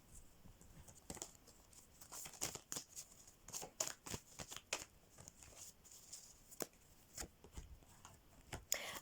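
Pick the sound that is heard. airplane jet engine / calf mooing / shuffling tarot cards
shuffling tarot cards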